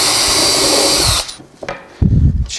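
A power drill whirs loudly and steadily while driving screw holes in joinery work, then cuts off, followed by a few short knocks and shuffling handling sounds.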